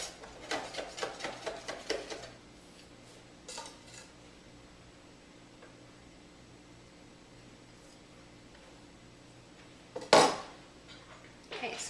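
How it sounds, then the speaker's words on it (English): A knife chops fresh basil finely on a board, giving a quick run of close, rhythmic taps at the start, then a quiet stretch with kitchen clatter and a sharp knock near the end. "I'm just going to chop up this basil really fine"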